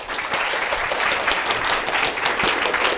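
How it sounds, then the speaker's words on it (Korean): Warm, dense applause for successful candidates at a gathering, continuous clapping from a room of people at even strength throughout. "다시 한번 뜨거운 박수 부탁드리겠습니다"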